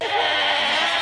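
A goat screams in one loud, harsh, sustained bleat lasting about a second, close and alone.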